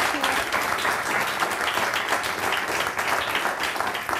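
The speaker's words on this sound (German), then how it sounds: "Bitte einen warmen Applaus" A studio audience at a German television interview breaks into loud, dense applause that holds steady from start to finish, with many hands clapping at once.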